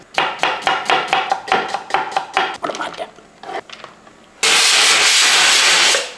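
A pressure cooker of potato curry sits on a stove; after a run of rapid knocking and clattering, a loud, steady steam hiss bursts out and holds for nearly two seconds before cutting off.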